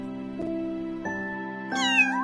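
A kitten meows three times in a quiet room, two short soft mews followed by a longer, louder rising-and-falling cry, close and alone.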